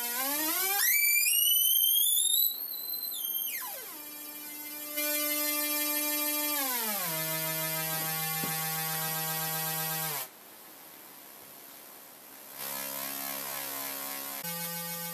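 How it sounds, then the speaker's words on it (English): A homemade solid-state Tesla coil driven by a PWM-OCXi modulator sends out plasma sparks that buzz loudly in steady tones, sliding up and down in pitch and jumping between held notes with brief gaps. "The sound you hear is at the frequency of the modulation signal, and it's produced when the plasma forms and forces the air around it to expand."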